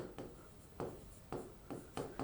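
Pen or pencil writing by hand on paper during a Hindi grammar lesson, quiet scratchy strokes in short irregular bursts, close and soft, no voices.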